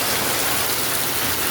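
Heavy rain pours down in Metro Manila as the streets quickly flood, a loud, steady, unbroken roar of water drumming on surfaces close by for the whole stretch.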